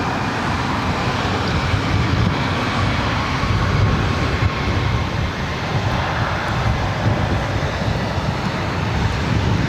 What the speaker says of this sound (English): This is Delta Connection 4133 coming in from Aspen on the CRJ 700ER